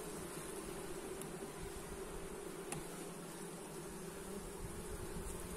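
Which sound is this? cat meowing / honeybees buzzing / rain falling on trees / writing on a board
honeybees buzzing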